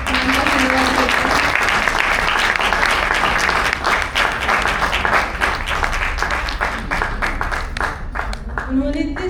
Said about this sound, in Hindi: आइए सब जोरदार तालियां बजाकर धन्यवाद करते हैं